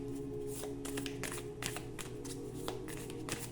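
A deck of oracle cards is shuffled by hand up close, giving quick repeated riffling flicks and soft slides in a quiet room.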